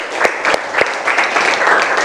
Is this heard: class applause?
yes